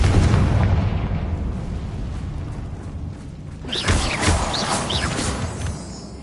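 Confringo fire spell in Hogwarts Legacy detonating, with a rumbling boom at the start that fades, then a second crackling fiery burst that rolls on for a couple of seconds.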